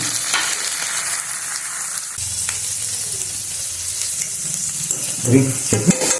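Beans, carrot and capsicum sizzle in a hot pan as filling for a veg burger. The frying hiss stays loud and steady, with brief stirring scrapes near the end.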